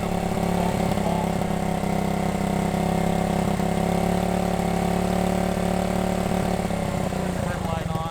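A 1971 Honda CB100 motorcycle engine idles after a cold start, a steady, close mid-pitched putter that runs evenly throughout with a faint shift near the end.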